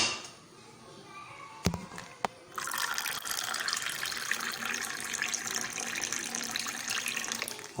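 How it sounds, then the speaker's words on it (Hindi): Water is poured into a watermelon juice mixture with sugar, a steady splashing gush that starts after two sharp knocks and continues evenly to the end. "पानी इसमें डाल दें।"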